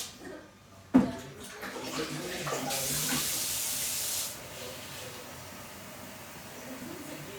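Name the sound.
cold water poured into Thermomix bowl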